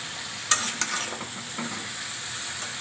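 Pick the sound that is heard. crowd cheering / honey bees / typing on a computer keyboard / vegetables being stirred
vegetables being stirred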